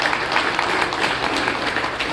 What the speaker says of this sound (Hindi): जोरदार तालियों से स्वागत कीजिए ऐसे परिवारों का